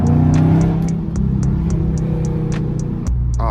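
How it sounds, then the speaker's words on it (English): Dodge Scat Pack car driving on the road, with a steady low engine drone and road rumble that carries through from start to finish, plus faint regular ticking throughout. "I daily drive this Scat Pack."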